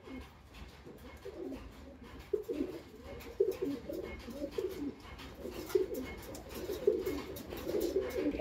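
Teddy pigeons of the Mughli breed coo in low, repeated bursts through the whole stretch, with steady soft background noise and no voices.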